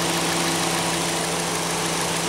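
Ford Escape S with the 2.5-liter four-cylinder engine idling, a steady, even engine hum with a constant low drone throughout and no talking.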